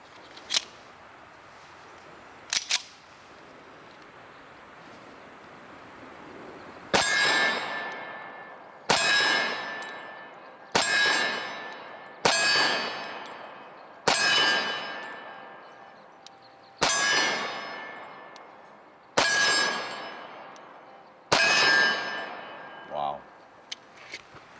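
A Dan Wesson Vigil Commander 1911 pistol with a lighter aluminum frame fires seven sharp shots outdoors at roughly two-second intervals, each crack ringing with a metallic clang and decaying tail, after two fainter earlier pops.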